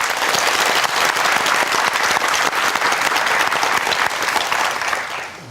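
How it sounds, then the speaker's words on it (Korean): Energetic applause from a studio audience of about a hundred panel members on a live broadcast television debate about jobs, loud and continuous throughout with no talking. "박수를 아주 힘차게 쳐주셨는데"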